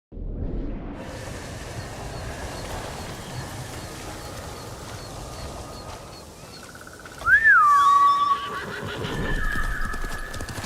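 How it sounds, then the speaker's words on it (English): Hooves clop steadily before a horse lets out a loud, rising whinny, then trots on, in the video game Ghost of Tsushima. "Good horse, Kage."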